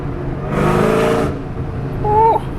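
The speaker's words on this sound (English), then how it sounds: "It broke the tires loose like nothing." A Ford SVT Cobra accelerates hard with its tires breaking loose, a loud engine rush lasting under a second, followed by a brief high tire squeal.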